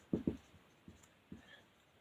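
Faint pen strokes across a board or paper as drug names are written during a lecture on general anaesthetics: two quick scratches close together, then two softer isolated taps, in a quiet room.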